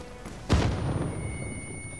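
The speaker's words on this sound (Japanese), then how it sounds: "爆発するぞ、急げ。" A single deep boom from an explosion in an Avengers video game hits suddenly, then rumbles and decays over a second amid a low game-like background hum.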